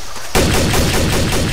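Gunfire in the video game Trouble in Terrorist Town, a loud, sudden burst of rapid shots that starts abruptly and continues without pause, with no voices.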